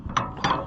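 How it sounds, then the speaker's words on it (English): A big ratcheting wrench turns a bolt, giving two short, close ratchet clicks in quick succession. "Let's see if one of these big wrenches will do it."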